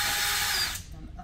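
A power tool running loud and steady as it undoes a nut on a fender bracket of a 2017+ Can-Am Maverick X3, cutting off partway through, then quieter handling noise.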